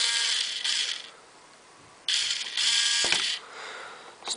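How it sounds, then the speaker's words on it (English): A small electric motor drives the tailgate of an R620 model low loader, giving a close whirring, ratcheting gear sound in two runs separated by a short pause, with a click between. "I can connect it up to the battery and show you the motor working."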